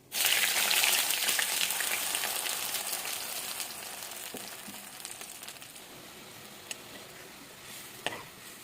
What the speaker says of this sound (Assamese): প্ৰথম তেলত দিম মই এতিয়া এই সৰিয়হ,